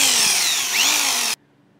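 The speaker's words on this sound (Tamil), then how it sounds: "இந்த இடத்துல நம்ம ட்ரில் பண்ணிக்கலாம்." A power drill bores into a metal lock, giving a loud, steady whirring grind with a rising whine that stops abruptly after a little over a second, leaving near silence.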